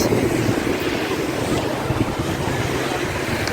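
Strong wind roars steadily across a coastal clifftop overlooking the sea near Shanklin on the Isle of Wight during a motorcycle trip, a loud, continuous buffeting that fills the whole stretch with no voices.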